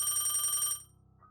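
A telephone bell rings as a sound effect in a horror story about antique items, a rapid trilling ring that cuts off abruptly partway through.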